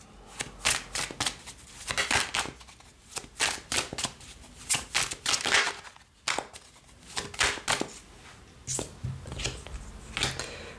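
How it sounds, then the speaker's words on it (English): Tarot cards being shuffled by hand in repeated bursts of riffling and sliding, close and fairly quiet, with brief pauses between passes and no talking. "I'm going to reshuffle that"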